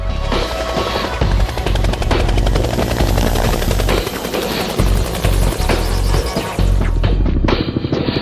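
A Bell AH-1 Cobra attack helicopter roars close by with a heavy, steady rotor throb and engine whine, loud and continuous throughout.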